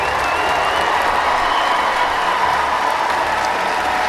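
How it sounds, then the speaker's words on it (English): A graduation ceremony crowd for the class of 2019 applauds and cheers in a large space, a dense, steady wash of clapping and voices that lasts the whole stretch without pause. "Get up, class of 2019. Get up and cheer."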